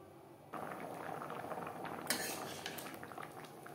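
Sago khichuri simmering in a pot on a gas stove, a quiet bubbling that swells partway through, with a brief metallic clink of utensils against the pot, close and without speech.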